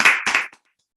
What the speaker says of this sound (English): Please give our artists a big, big round of applause.